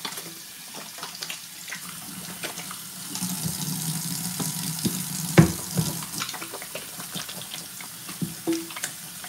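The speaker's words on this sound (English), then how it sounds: "now I'm gonna rinse my hands off" A kitchen tap runs steadily while hands are rinsed under it, the water hissing and splashing continuously at close range with a few louder splashes and clunks.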